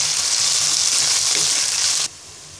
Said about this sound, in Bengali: এবার মশলাটাকে কিছুক্ষণ ভেজে নিব।